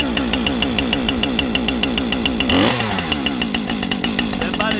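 A Husqvarna 550xp chainsaw running after a cold start, a loud close pulsing engine that revs up sharply midway, then settles back into a rapid throbbing idle.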